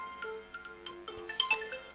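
A telephone rings as a caller comes in to a Thai Buddhist radio talk program, giving a short, moderately loud electronic melodic ring with no talk over it.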